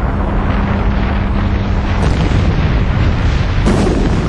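Hydrogen bomb detonation, heard as a continuous loud, broadband roaring rumble with wind-like buffeting and two sharper bursts partway through, no voices present.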